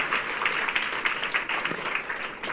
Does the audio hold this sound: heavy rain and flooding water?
no